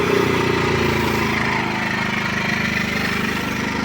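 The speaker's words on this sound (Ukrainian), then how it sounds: "генератор запустився" A small portable generator running in economy mode drones steadily nearby at a constant moderate pitch, a continuous even hum with no talking.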